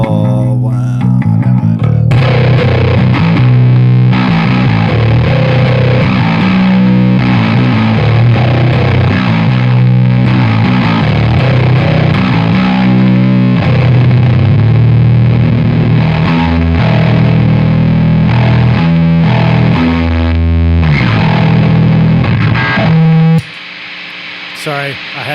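Electric guitar played through a Lawrence Petross Design Eighty 7 Overdrive pedal, loud, compressed, distorted chords and riffs ringing continuously near the listener, ending in a sudden stop.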